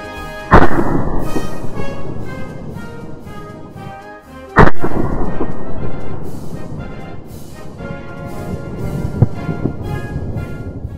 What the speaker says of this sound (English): There were in fact 10 rounds shot with this group, but I just selected a few of the ones that looked good on film.